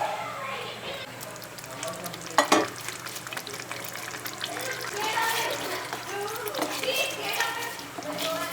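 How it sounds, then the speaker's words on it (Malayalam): Curry gravy thickened with cashew paste bubbling and sizzling in a pan for dhaba-style paneer masala, a steady close simmer with stirring clatter. "ഇത് നല്ലതുപോലെ തിളപ്പിക്കാം."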